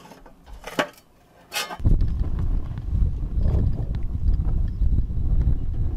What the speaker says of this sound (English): The wind is getting so strong it's trying to blow the camera over